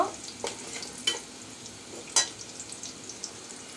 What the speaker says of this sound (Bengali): একটু ব্রাউন কালার করে বেজে নিব